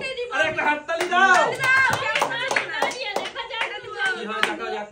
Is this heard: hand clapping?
yes